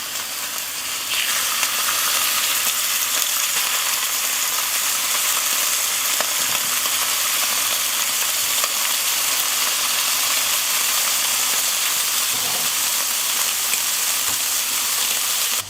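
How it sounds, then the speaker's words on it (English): Angus flank steak lollipops sizzle steadily on an oiled griddle plate, a loud, continuous frying hiss that starts after a brief quieter moment and then holds without any talk. "we're going to put a little bit of olive oil onto my griddle plate, and then we're just going to set them on for about 2 minutes each side"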